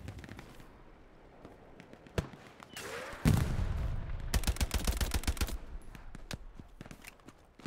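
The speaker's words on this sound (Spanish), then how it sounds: "La ametralladora de esta del ingeniero no va mal" An engineer's machine gun in the World War II game Hell Let Loose fires bursts of rapid shots, starting with scattered single cracks and then running into a dense, loud stretch of gunfire before trailing off.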